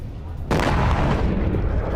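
An explosion strikes an IRGC drone launch facility, bursting in suddenly as a loud, broad boom that rolls on into a sustained rumbling roar.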